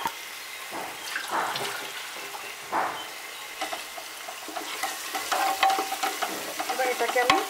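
Garam masala paste is stirred in a frying pan, giving a soft sizzle with intermittent scraping strokes of a spatula that grow busier toward the end.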